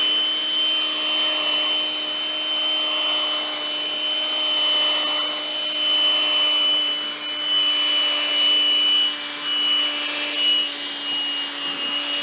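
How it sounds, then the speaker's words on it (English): A cordless drill with a weakening battery runs nonstop during 4T60E transmission work on a 2011 Chevy Impala: a steady, close motor whir with a thin high whine that stays even throughout. No one speaks. "Oh, it sounds like my drill needs a battery."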